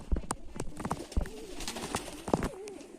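Budapest tumbler pigeons cooing close by, several soft rhythmic coos and wing or perch rustles scattered across a few seconds, quiet overall with no talk.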